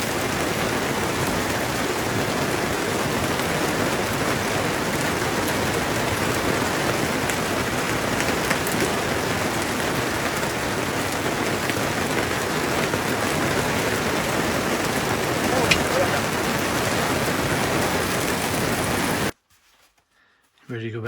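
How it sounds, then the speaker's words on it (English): Sudden heavy July rain mixed with hail pounds steadily on a cover or RV roof in a canyon, a dense, loud, unbroken roar lasting most of the time before cutting off abruptly near the end. "the rain just came up. It just started hailing."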